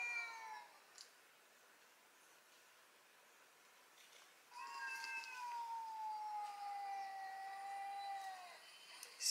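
Two cats fight with drawn-out caterwauling howls, one long wavering yowl rising and falling, fairly close and alone against a quiet background.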